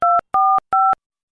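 Three evenly spaced electronic telephone tones, each a steady dual-pitch beep about a quarter second long, then silence; clean and close with no voices.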